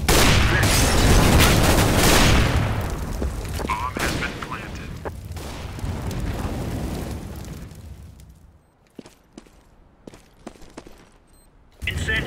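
Loud booming blasts and crackling fire from a flashbang and molotov thrown in Counter-Strike: Global Offensive, a dense roar for several seconds that fades into scattered sharp pops and clicks before a final loud burst.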